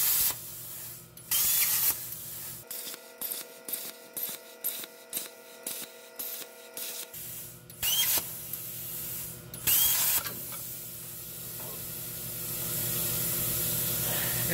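A Primeweld Cut60 plasma cutter slices through a bolt on a gooseneck trailer, giving a steady hissing roar broken by a run of sharp, rapid bursts and crackles, close and loud, with no voices.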